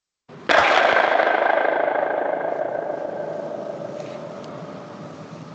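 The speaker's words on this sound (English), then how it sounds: "I took a wooden plank and I hit it as hard as I could on the floor" A wooden plank struck hard on a floor gives one sudden loud impact, followed by a long rattling echo that slowly fades across the room.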